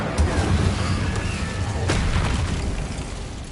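Bombarda explosion spell cast in Hogwarts Legacy, a dense rumbling blast with low-end boom and a sharp crack partway through, sustained and loud across the whole moment.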